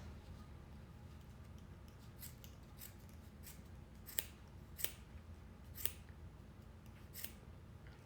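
Scissors snip yarn tails from a crochet hat, a series of crisp, close cuts spaced about a second apart over a low, quiet background.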